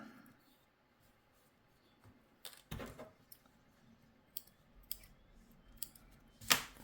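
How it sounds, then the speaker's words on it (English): Scissors trimming thread after a double knot while sewing a faux leather metal-frame clutch purse, a few faint close snips and clicks in a quiet room, the last cut sharpest. "Do a double knot and then just trim that."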